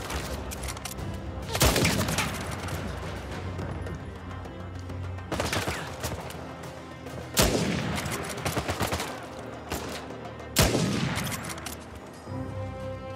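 In the Uncharted 4: A Thief's End video game, bursts of gunfire come with four heavy grenade-launcher blasts spaced a few seconds apart, each a loud booming crack followed by a rumbling decay.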